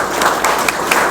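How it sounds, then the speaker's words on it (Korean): Audience clapping at a Korean book launch event, a short burst of close, dense applause with faint murmuring underneath. "그 순례의 길을 여러분의 뜨거운 박수와 함께 시작하도록 하겠습니다."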